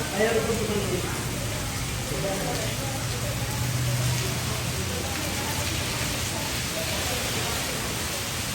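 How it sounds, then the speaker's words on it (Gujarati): Steady rain pours down on a street flooded with water, a dense continuous hiss of drops on surfaces filling the whole stretch at an even level, with faint voices mixed in underneath. "વરસાદ અત્યારે થોડોક ઓછો થઈ ગયો"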